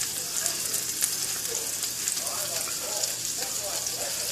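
Salisbury steak patties made without breadcrumbs browning in a hot pan, giving a steady, close sizzle and crackle of frying meat that runs without a break.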